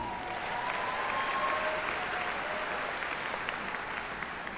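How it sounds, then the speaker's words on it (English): Steady applause from a college commencement crowd for a campus president at Metropolitan Community College-Kansas City, moderately quiet and even throughout, with a few brief tonal whistles or squeaks near the start. "Let's give her a round of applause, please."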